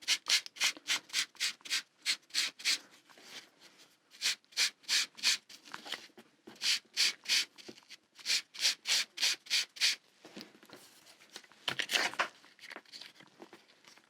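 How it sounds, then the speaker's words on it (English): Rhythmic bursts of rubbing and scrubbing on a gel printed metallic sticker as it is burnished back to a muted finish, close and fairly loud, in steady back-and-forth strokes with brief pauses between runs. "I grab, rub it, scrub it, because I don't want all that there. I want to burnish it back so it's not as shiny"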